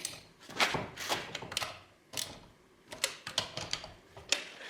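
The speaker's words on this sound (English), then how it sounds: "ratchet with extension and a 15mm socket, and we'll just get around all these" Ratchet on an extension with a 15mm socket loosens the wheel nuts on a Smart Roadster Brabus Coupe, giving faint bursts of rapid clicking in short irregular runs, close by and with no talk.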